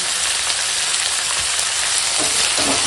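Kashmiri chili powder, dried chili powder, turmeric and salt frying in hot oil for a katla fish curry, a loud, dense, steady sizzle close up with a faint stir or two, no voices.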